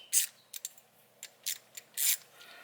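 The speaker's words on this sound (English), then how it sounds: "ratchet or wrench, whatever you have, and just tighten this down just a little bit." A 3/8 ratchet tightens the caliper cover on a Mustang MGP brake caliper. Several short, crisp clicking bursts come close up and fairly quietly, spaced irregularly, with no one speaking.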